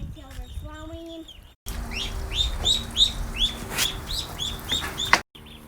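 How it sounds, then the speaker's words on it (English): Five baby ducks on a farm calling loudly in a quick run of sharp, repeated peeping chirps, fairly close, over steady background noise, ending abruptly. "Why are your ducks so loud?"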